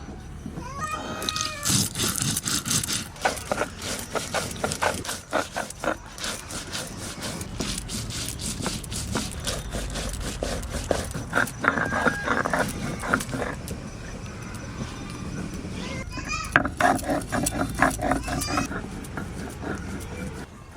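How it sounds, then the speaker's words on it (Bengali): Mustard seeds and chillies are ground together on a traditional grinding stone in a Bengali home kitchen, making continuous rough, gritty scraping and rubbing strokes in a steady back-and-forth rhythm, close and moderately loud. "অল্প অল্প করে সর্ষে নেব, আর দুটো দুটো করে লঙ্কা দেবো একসঙ্গে, নিয়ে বেটে নেব।"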